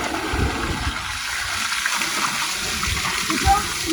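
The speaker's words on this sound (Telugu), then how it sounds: "పైన పడుతుంది. ఇదే వాటర్ మసాజ్ వాటర్." Water pours down from above in a continuous rushing stream for a water massage, a steady broadband splashing hiss that stays loud and close throughout, with voices faintly mixed in.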